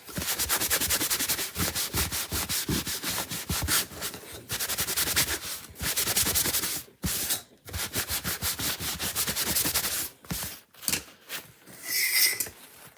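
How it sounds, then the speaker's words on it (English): A handheld Gator sanding tool rubbing steadily against a surface in quick back-and-forth scraping strokes, close and continuous with brief pauses between runs. "Gator sanding tool."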